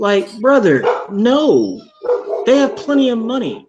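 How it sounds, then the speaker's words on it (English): Dogs barking and yipping indoors, loud and close, in bursts that overlap and mix with someone talking. "Sorry about my dogs."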